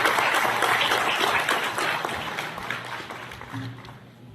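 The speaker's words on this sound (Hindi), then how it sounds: "की जोरदार तालियों से हमारे मुख्य अतिथि का स्वागत है" An audience at a natural farming convention at SKUAST-Jammu applauds to welcome the chief guest, the Lieutenant Governor, with dense, sustained clapping that gradually thins out toward the end.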